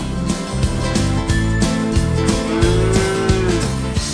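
Holstein dairy cattle on a large desert dairy farm moo over a steady farm din, several low drawn-out calls overlapping among the herd.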